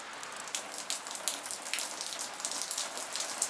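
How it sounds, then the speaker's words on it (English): Rain falls outdoors in Altoona, Pennsylvania, a bright steady hiss of drops with scattered louder splashes and patters, close by and continuous, with no one speaking. "the biggest challenge is to overcome the rain"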